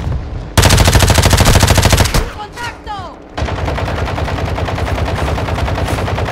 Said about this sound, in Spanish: Nos dispara un güey.